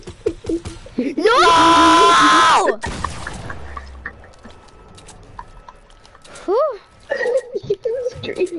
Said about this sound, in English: You screamed so loud.